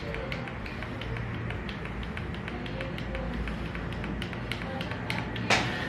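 Rapid plastic clicks from buttons being pressed, a steady run of light taps over a low background rumble, ending with one louder snap.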